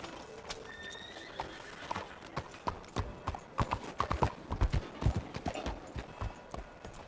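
Horse hooves clip-clop in a steady walking rhythm in Red Dead Redemption 2, growing louder and closer, with a brief whinny and no talking.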